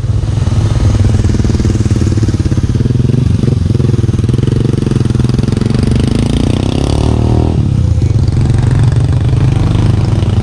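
A motorcycle engine runs loud and close on the way to Kilangin Falls in Liliw, Laguna, with a steady throbbing drone that shifts pitch slightly as it revs, no voices over it.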